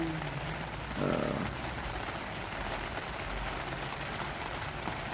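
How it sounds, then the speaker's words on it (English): Rain patters steadily on an outdoor canopy, an even, continuous hiss of drops with a brief louder knock near the start. "I hope you enjoy the rain hitting the canopy here."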